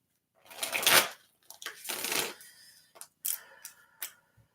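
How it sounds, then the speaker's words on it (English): Tarot cards being shuffled by hand, several bursts of riffling and slapping close by, a long sweep followed by shorter crisp flicks and taps, with no talking. "As I'm shuffling, I'm just going to breathe and take in these energies"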